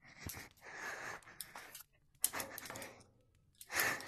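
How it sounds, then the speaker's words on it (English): Heavy, loud breathing close to the microphone, with repeated gasping breaths and sighs in bursts and brief quiet gaps between them. "I'm breathing a lot."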